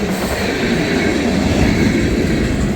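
A CSX manifest freight train of loaded railcars rolls past close by on the Erie West Subdivision, its steady, loud rumble broken by faint clickety-clack from the wheels.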